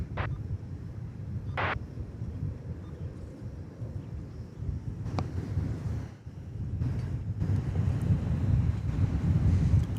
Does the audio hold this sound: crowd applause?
no